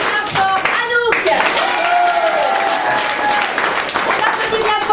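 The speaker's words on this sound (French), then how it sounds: "on applaudit bien fort Anna" Hands clap in a lively burst of group applause that starts early and keeps going to the end, while someone talks above it.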